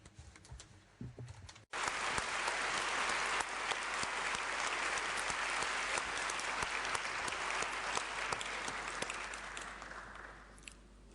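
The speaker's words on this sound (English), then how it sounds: "I suggest that we give him a round of applause." Audience applauds a brother of a religious order at a mission congress panel. A short quiet stretch with faint voices gives way to loud, dense, sustained clapping from a large crowd that holds steady and tapers slightly toward the end.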